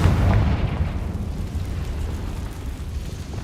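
A magical Confringo blast in a game erupts as a loud, close boom that opens with a sharp burst and then rolls off into a rumbling, decaying tail over a few seconds.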